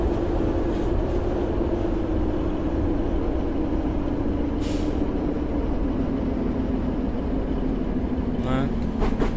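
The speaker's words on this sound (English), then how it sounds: "let's put it into harsh braking" A Class 150/2 diesel train in Train Simulator 2015 on the Liverpool to Manchester route rumbles under harsh braking, a steady droning engine tone slowly falling in pitch, with brief hisses of air release.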